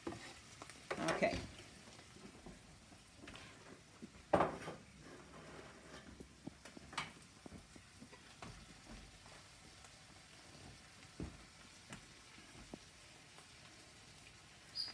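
Ground beef browns in a pan for red chili, a faint, soft sizzle with occasional scrapes and stirring clatters of a spatula.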